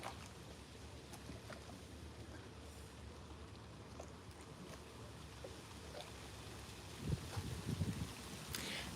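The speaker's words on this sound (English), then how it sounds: "the sound of marine diesel engines is lovely" A boat with a marine diesel engine passes on the Norfolk Broads at Ludham, a steady low rumble running under outdoor ambience and swelling louder near the end as the vessel draws close.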